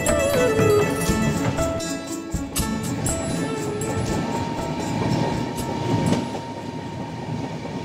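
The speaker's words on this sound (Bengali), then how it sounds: "খড়গপুর স্টেশন ছেড়ে ট্রেন বেরিয়ে গেল।" Puri Duronto Express in motion just after pulling out of Kharagpur, a steady loud rumble of wheels and carriages with faint clatter and some squeal, continuous throughout with no talk.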